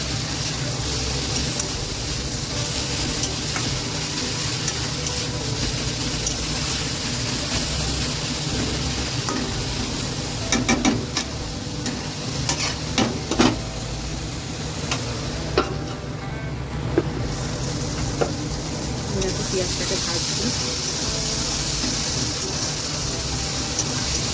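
Curry ingredients fry in a pan with a dense, steady sizzle that stays fairly loud throughout, with bursts of stirring clatter in the middle and no talking.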